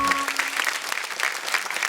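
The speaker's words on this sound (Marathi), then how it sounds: "जोरदार टाळ्या ताईंसाठी झाल्या पाहिजेत." An audience on a Marathi television show claps enthusiastically, a dense, continuous burst of applause with no voices over it.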